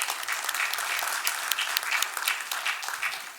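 Dense, lively applause from an audience at a city commission meeting honoring local schools, principals and students, many hands clapping continuously at moderate distance, fading slightly near the end.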